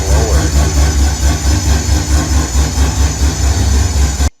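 A supercharged Chevrolet Corvette Z06 engine runs loud and close with a heavy, constant rumbling drone and a steady blower whine, holding level with no talking, then cutting off sharply at the end.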